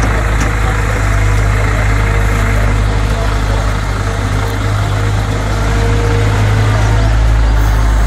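A toy excavator truck's engine sound: a steady, low idle rumbling without a break, a constant droning hum like a parked truck's motor running close by.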